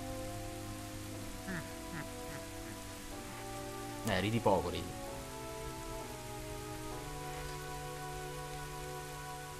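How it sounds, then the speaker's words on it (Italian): Steady rainfall patters throughout a scene in The Legend of Zelda: Ocarina of Time, soft and continuous beneath sustained game music, with a brief line of spoken dialogue partway through. "Che bella la pioggia."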